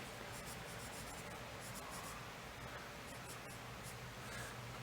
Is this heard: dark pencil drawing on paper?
yes